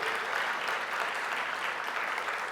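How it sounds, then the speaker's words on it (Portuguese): A church congregation claps continuously, a full, even wash of applause filling the room with no voices standing out. "Com uma salva de palmas para Jesus"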